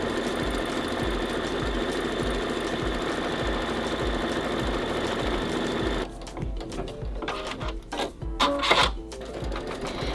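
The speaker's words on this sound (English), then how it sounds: "we're going to go ahead and sew stitch sequence 2, and that's going to create your cutting line" Embroidery machine sewing an appliqué cutting line, rapid even stitching pulses for about six seconds, then stopping into softer clicks and handling noises.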